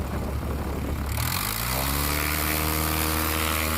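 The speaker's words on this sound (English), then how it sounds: "Here's James now, tail nice and high, and it timed it exactly right off into the air." STOL light aircraft taking off at a Heritage STOL race, its propeller engine surging to a loud full-power roar partway through, then holding a steady strong drone as it climbs away.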